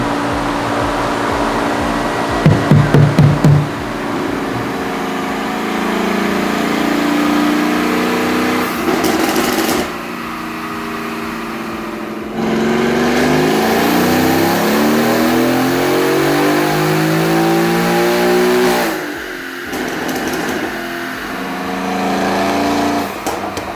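A Mercedes-AMG GLC 63 running on ethanol revs hard on a chassis dyno, its engine note climbing loud and sustained through repeated pulls with brief drops between them, no talking over it.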